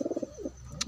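Pigeon cooing close by in a quick burst of soft, rapid pulsing coos followed by a short warbled note, brief and fairly quiet with no talk.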